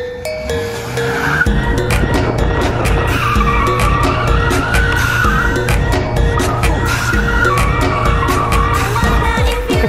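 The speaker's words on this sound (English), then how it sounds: "drifting in a mom's minivan." A mom's minivan drifts with its tires skidding, a loud sustained squeal riding over the roaring engine for nearly ten seconds without a break.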